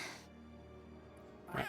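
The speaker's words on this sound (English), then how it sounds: "Oh, look, a cat." A cat in the video game Tales of Arise gives a faint, soft meow near the end, set against a low, quiet musical background.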